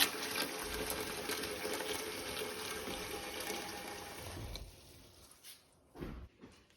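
Water pours steadily from a tap into a 16-quart pot, a continuous splashing rush for several seconds that tapers off. A few dull knocks and clunks follow.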